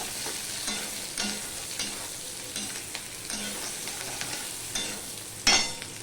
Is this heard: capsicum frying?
yes